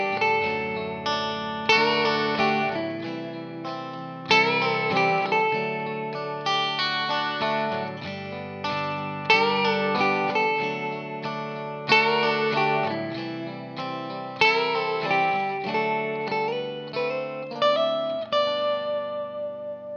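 Electric guitar plays the melodic lead part of a song over a backing track, with effects, chorus and reverb, its sustained notes ringing steadily and prominently throughout.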